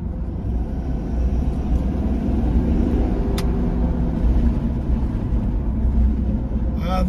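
A turbo diesel car driven with hand controls, heard as a steady, loud low engine and road rumble with a constant drone and no speech.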